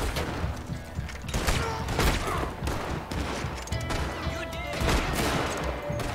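Dense gunfire rattles through a shootout with police in Red Dead Redemption 2, loud overlapping shots and bursts firing almost without pause.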